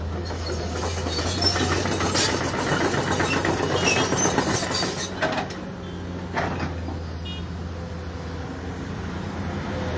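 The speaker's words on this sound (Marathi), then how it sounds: "आता पोकलीन मशीन घुंवळलेले आसा।" A Poclain excavator engine runs beside heavy traffic in Porvorim, a steady low diesel rumble with broad road noise, louder for the first five seconds and then easing, with a few clanks.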